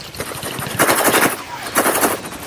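A shooting video game plays back loud, rapid machine-gun bursts in two clusters, close and aggressive, with no talk over them.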